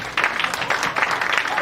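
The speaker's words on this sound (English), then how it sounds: "Big round of applause." Audience applause at a stage show of follies, a dense, steady patter of many hands clapping that starts abruptly and holds at an even level for under two seconds.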